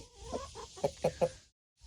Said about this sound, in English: that's our rooster, the only one we have